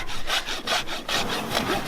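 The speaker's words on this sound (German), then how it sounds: "Wenn ich das dann so grob erstmal geschnitten habe, den Nagel, dann gehe ich mit der Raspel" A rasp files an elephant's toenail at a zoo, giving loud, steady back-and-forth scraping strokes in a rough, even rhythm, close up and without voices.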